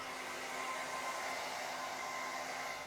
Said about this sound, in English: now I've got my first coat on, so I'm going to use the hairdryer to dry mine